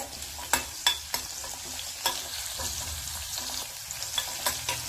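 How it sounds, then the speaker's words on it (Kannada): Chili and curry leaves fry in a pan with a steady crackling sizzle, broken by sharp pops and the scrape of stirring, close and with no talking. "ಒಂದು 4 ರಿಂದ 5 ಕರಿಬೇವು ಕಟ್ ಮಾಡ್ಕೊಂಡಿನಿ ಸಣ್ಣಂಗ. ಇವು ಸ್ವಲ್ಪ ಫ್ರೈ ಆಗಲಿ ಇದ್ರಾಗ."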